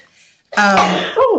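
A person sneezes once during a special meeting of a town Board of Assessment Appeals, a loud voiced burst after a second of near silence, ending in a short falling vocal tail.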